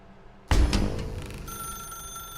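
An old telephone rings in the video game The Stanley Parable, a sharp bell that starts abruptly and then keeps ringing with a lingering metallic tone, heard alone without speech.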